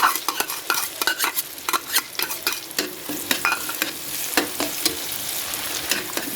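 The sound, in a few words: onion sautéing in butter and oil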